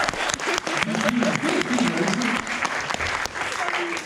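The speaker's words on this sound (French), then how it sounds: "Je veux juste que vous applaudissiez un maximum Jessica." An audience at a film screening applauds loudly and steadily, dense clapping filling the room, with voices calling out over it.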